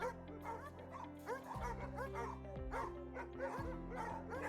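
Young dogs at an adoption shelter bark, yip and whimper together in a busy, overlapping chorus, close and continuous, with deep barks punctuating higher yelps.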